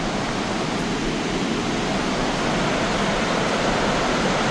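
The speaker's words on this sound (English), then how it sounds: "I'm gonna take him to this other waterfall." A waterfall in Iceland roars as a steady, loud broadband rush of falling water, unbroken and close for the whole stretch, with no voices.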